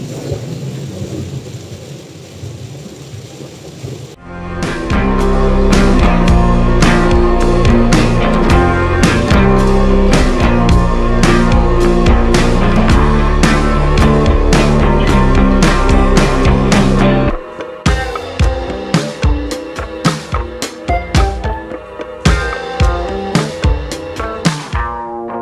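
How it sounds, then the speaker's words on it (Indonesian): Heavy rain drums steadily on a car moving slowly along a highway, with a loud, dense roar of droplets and engine and road noise underneath; after a sudden jump the hammering continues in uneven bursts. "Ini kondisi lagi hujan deras banget"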